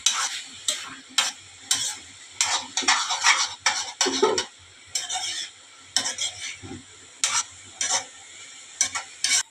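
Onions cook over a hot flame in a pan for egg bhurji, with repeated bursts of loud sizzling and crackle as a spatula stirs and scrapes, broken by short quiet gaps. The sound is close and carries no speech.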